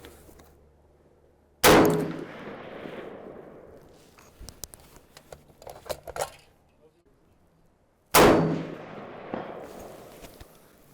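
A Springfield M1A rifle fires at a steel target 300 yards away, with two loud, sharp shots several seconds apart. Each has a long echoing decay, and faint clinks and handling noise come in between.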